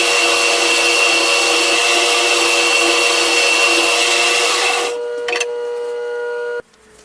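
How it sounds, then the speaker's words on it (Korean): Loud, continuous machine saw, a bandsaw or jigsaw, cutting wood shelf pieces, a steady high whine that drops away near the end, leaving a quieter hum before stopping. "밴드소나 직소기 또는 톱을 이용해서 선을 그을 자리를 재단합니다."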